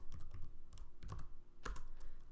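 Quick, light clicks of computer keys being tapped in short uneven bursts, close and fairly quiet, as a folder gets renamed, with no voices.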